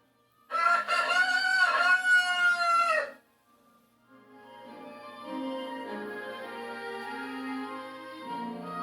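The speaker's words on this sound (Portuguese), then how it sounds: "De um outro galo que apanhe o grito de um galo antes e o lance a outro." A rooster crows once, loud and close, a long strained cock-a-doodle-doo for about three seconds, followed by quieter, sustained tonal sound afterward.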